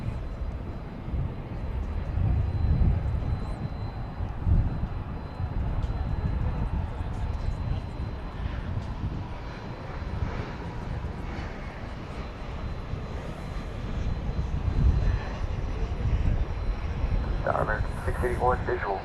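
A United Boeing 737-900 airliner at DFW airport at night gives a continuous, fairly loud engine roar that swells and eases slightly, with radio talk over it.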